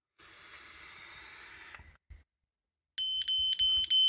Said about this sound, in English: If I push the test button, it makes a beeping noise, and if I blow some smoke into the chamber,